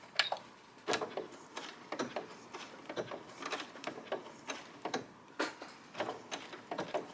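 A sewing machine stitches quilt binding with a regular stitch, making a faint, quick tapping and clicking in uneven bursts, recorded close up.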